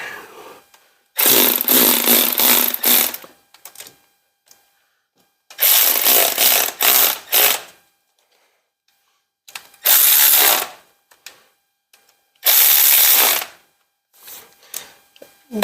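A powered ratchet tightening bolts on a 1957 vehicle, four loud close bursts of rapid buzzing clicks, each lasting one to two seconds and separated by quiet pauses with faint handling noises.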